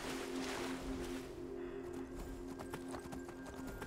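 In the Skyrim video game, a horse's hooves clip-clop in a steady rhythm, then shift to sloshing water as it swims across a river, with game ambience underneath.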